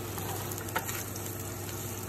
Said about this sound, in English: we're literally frying the onions